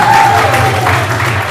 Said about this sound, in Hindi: इस पर जोर की ताली होनी चाहिए।